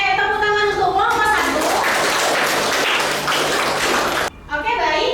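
Students in a classroom applaud a presenting group, a dense steady wash of hand claps lasting several seconds with children's voices talking over the start and end.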